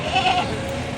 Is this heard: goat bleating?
yes